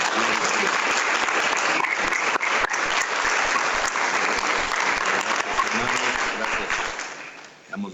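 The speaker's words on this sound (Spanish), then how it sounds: "Y una ofrenda de palmas al Señor." A church congregation applauds as an offering of praise to the Lord, a dense, steady wash of many hands clapping that holds for several seconds before thinning and fading at the end.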